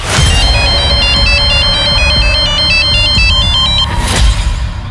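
A loud electronic ringtone plays a steady repeating melody of high beeping tones, alone with no talking.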